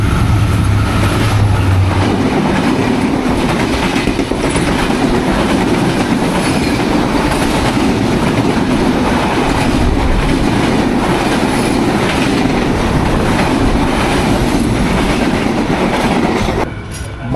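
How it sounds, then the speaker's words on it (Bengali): An intercity express train on the Rajshahi–Dhaka line rushes past at high speed, a loud, steady roar of wagons and rattling wheels close by for the whole stretch, with no voices. "দুর্দান্ত গতি নিয়ে ছুটে আসছে ট্রেন"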